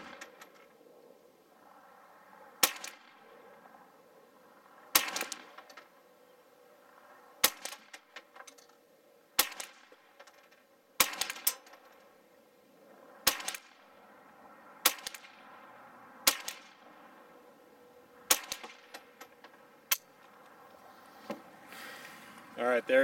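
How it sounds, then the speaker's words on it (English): Ruger 10/22 rifle shots ring out against steel disc brake rotors at an outdoor range, about a dozen sharp cracks spaced a second or two apart, each trailing off briefly, with quiet gaps between. "We're gonna try the 1022 again."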